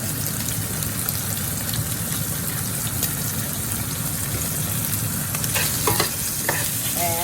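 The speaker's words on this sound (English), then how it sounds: "nice color and the onions are nicely sauteed, we're going to add our Greek spices" Sautéed onions sizzle in a pan on medium heat after Greek spices are added, a steady close frying hiss with occasional stirring scrapes and clinks near the end.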